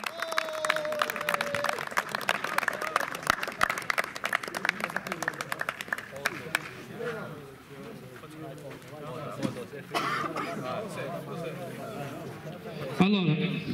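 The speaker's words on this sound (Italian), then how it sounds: "Un applauso." Applause from an award ceremony audience, a dense crackle of many hands that fills the first half and then thins to scattered claps while people talk nearby.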